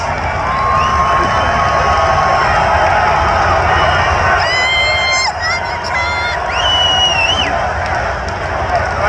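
Large outdoor rally crowd roaring and cheering continuously, dense and loud, with shrill whistles and scattered shouts rising above the mass of voices.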